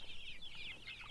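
A brief stretch of soft, close clucking and chirpy calls from free-range chickens, quiet and continuous without any talking.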